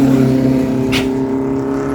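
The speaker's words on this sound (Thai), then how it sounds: "รถเปล่าเนาะ แม่ชอบเบรกครับฟังเสียงชอบเบรกครับ" An unladen Isuzu FXZ360 truck rolls down a curving mountain road with its exhaust brake on, giving a loud, steady, close droning rumble that holds throughout, with a brief hiss partway through.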